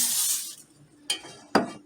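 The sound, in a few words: cooking oil spray sprayed onto a pan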